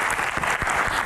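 A brief, loud burst of audience applause for university students at an evening Q&A event in Jakarta, dense clapping filling the whole moment.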